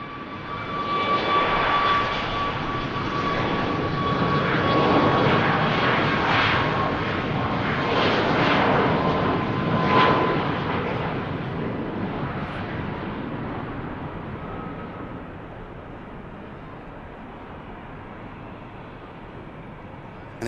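A Saudia airliner landing at Manchester Airport, its jet engine roar building to a loud peak as it passes close, then slowly fading into a distant rumble.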